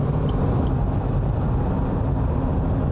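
A car cruises on a highway on Nokian winter tyres size 245/70 R17, giving a steady broadband road and tyre roar with low engine drone heard from inside the cabin.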